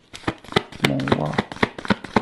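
Playing cards shuffled and drawn during a tarot-style reading, with quick papery riffles and snaps in irregular bursts, close and fairly loud alongside a speaking voice.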